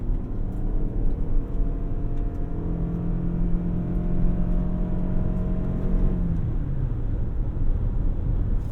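A 2024 Toyota Highlander Hybrid Platinum AWD accelerating at full throttle from a stop in sport mode, heard from inside the cabin: a steady rising engine drone that climbs for several seconds, then dips and settles.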